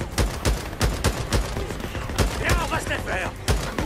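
Rapid gunfire aimed at zombie heads in the video game Days Gone, a string of about a dozen sharp, loud shots in an uneven rhythm, with a voice briefly audible underneath.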